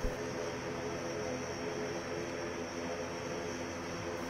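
A seaplane on a test flight over Mumbai produces a steady, loud, broadband engine and propeller drone that runs continuously throughout with no speech.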